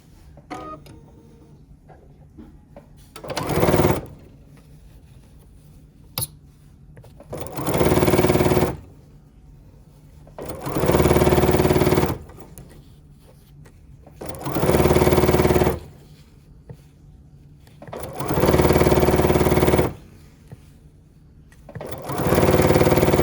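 A sewing machine stitches a green strip onto a quilt in repeated bursts of rapid mechanical whirring, six runs of a second or two each separated by pauses with faint handling noise, close by and without talking.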